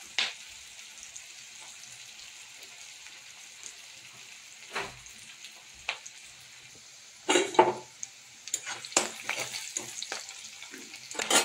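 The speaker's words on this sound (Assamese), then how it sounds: "পিঁয়াজখিনি ধুনীয়াকৈ ৰঙা হোৱালৈকে ভাজি থাকিম।" Onions sizzle steadily in hot oil with a constant hiss, and a few louder scrapes and stirring clatters come in toward the end.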